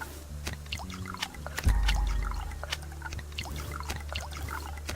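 A plant bed gets watered in the survival game Subsistence, a short soft pour and trickle of liquid rising at mid-clip among scattered small clicks and thuds from the game, fairly quiet overall.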